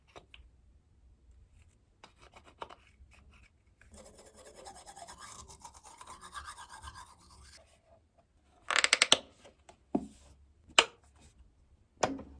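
A dull nail clipper is used on fingernails indoors: faint rasping and rubbing at first, then a few distinct, sharp clicks as the nails are clipped, close up, with no talking.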